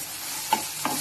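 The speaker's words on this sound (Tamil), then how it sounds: "Then saute it well." Chopped tomatoes sautéing in a pan for crab rasam, a soft steady sizzle with a couple of brief stirring scrapes, close and quiet, no voices.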